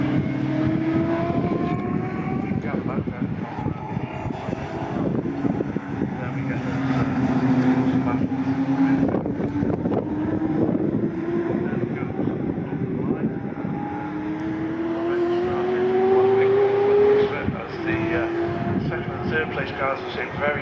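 MG B racing cars at Silverstone in a close pack, a continuous engine drone with rising and falling pitch as cars pass, heard under steady race commentary.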